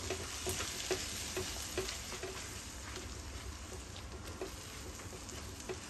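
An onion and spice paste for prawn bhuna fries steadily in a pan, a soft continuous sizzle broken by regular clicks and scrapes of stirring, quiet and close with no talking.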